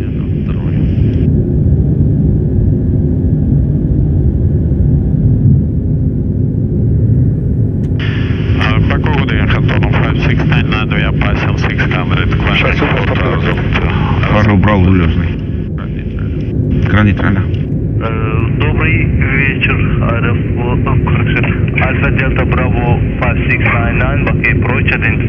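Engines of an An-124 Ruslan cargo aircraft during takeoff climb on a night flight, a loud continuous roar and hum throughout, with crew voices calling out in the cockpit over it.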